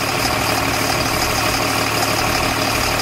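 An LMTV military truck engine idles steadily and loudly up close while a hydraulic A/C compressor runs, with a constant low rumble and no voices.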